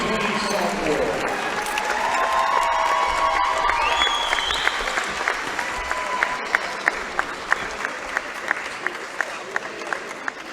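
Applause from a crowd at a junior college sports night honoring ICC men's basketball sophomores, building steadily after an announcer's voice and thinning into scattered claps at the end.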